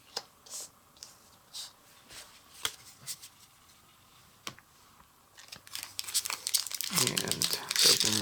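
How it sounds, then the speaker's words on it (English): Magic: The Gathering War of the Spark booster packs being handled and torn open: scattered soft crinkles and clicks at first, then a sustained burst of loud foil crumpling and tearing close by. "And let's open the War of the Spark packs"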